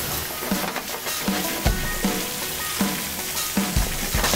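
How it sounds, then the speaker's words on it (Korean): A seafood and green onion pancake sizzles steadily in hot oil, crackling loudly and close with occasional sharper pops, and no voices are heard. "기름을 두르고 반죽을 올리고"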